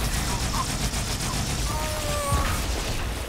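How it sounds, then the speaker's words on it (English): Gunfire and grenade explosions in the Halo 2 video game on PC, part of The Master Chief Collection. A dense, continuous rattle of shots fills the clip, with a heavier blast near the end. "Okay, who keeps throwing grenades?"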